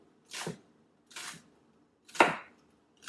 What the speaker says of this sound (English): So these are the green onions for the end. So I want to cut them very, very fine.